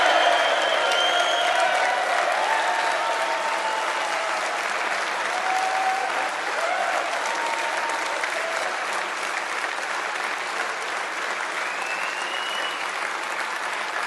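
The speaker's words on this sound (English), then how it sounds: "That's worth a round of applause." Sustained audience applause at a Brexit Party election event unveiling candidates, a steady wash of many hands clapping throughout with a faint crowd murmur.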